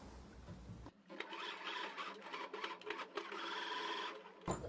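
A sewing machine stitches through a towel being made into a hooded panda towel, running in a fast steady buzzing burst after a brief pause, close and moderately loud, with no one speaking.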